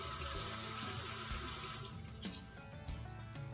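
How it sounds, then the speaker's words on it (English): A kitchen knife rinsed under a running tap after cutting sausage: a steady, close rush of water, continuous and fairly loud throughout, with slight changes as the blade moves through the stream. "I'm going to wash this knife off."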